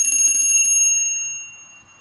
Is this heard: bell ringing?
yes